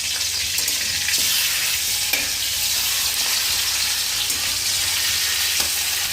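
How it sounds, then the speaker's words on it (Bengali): Fish fries in hot oil in a home kitchen, giving a steady, loud crackling sizzle with occasional popping spatters and a few soft utensil knocks, with no talking. "তো এই মাছ ভাজতে গেলে না মাঝে মাঝে কিন্তু তেল ছেটাই বন্ধুরা।"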